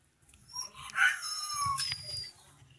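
A dog gives high, whining howl-like cries in a few short tonal bursts, close by, over a steady low rumble of wind outdoors.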